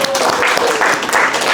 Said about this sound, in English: Number 1, Miss Vanessa Poo, round of applause.